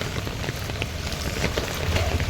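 Light rain falling in Ahmedabad, a dense steady patter of drops on surfaces with a constant hiss, close and fairly loud, no talking.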